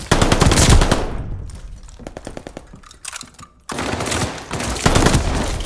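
Bursts of rapid automatic gunfire in a multiplayer video game hardpoint match, loud and close, with a quieter stretch of scattered shots in the middle before heavy firing resumes.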